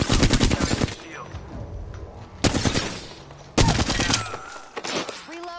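Video game gunfire: several loud, rapid automatic bursts with quieter gaps between them, the last volleys shorter and more scattered.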